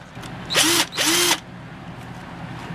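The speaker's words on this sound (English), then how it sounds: "So we're going to take our drill and come straight in." Two short bursts of a power drill whirring close up as it drills holes in hard plastic, each rising in pitch briefly, then a quiet background.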